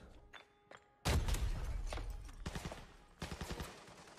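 Gunfire in Arena Breakout, a tactical shooter, with a budget P90 submachine gun in play: a couple of faint distant pops, then a loud burst of rapid automatic fire followed by further clustered volleys.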